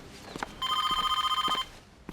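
A telephone bell rings in a rapid, continuous trill for about a second, fairly close and clear, over quiet indoor room sounds with a few footsteps.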